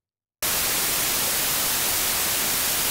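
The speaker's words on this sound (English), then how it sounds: "you can hear in the pink noise" Steady broadband hiss starts abruptly after a brief silence and continues evenly, a soft rushing noise with slightly less brightness than pure static.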